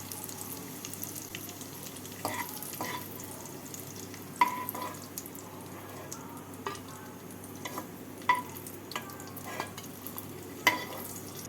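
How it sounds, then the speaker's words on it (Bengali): Cashews and raisins fry in hot white oil in a wok, a soft continuous sizzle broken by intermittent clinks and scrapes of stirring, fairly quiet with no speech. "তেলটাকে গরম করে নিয়ে এর মধ্যে কাজু আর কিশমিশগুলোকে ভেজে তুলে নেব"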